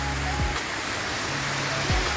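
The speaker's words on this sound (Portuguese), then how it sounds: "Aqui é uma cachoeira artificial que desce aqui do monumento," An artificial waterfall pours down from a monument into a lake in Aparecida do Norte. It makes a steady, even rushing wash of water that stays fairly close and constant, with only a faint trace of voice.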